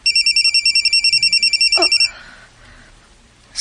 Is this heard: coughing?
no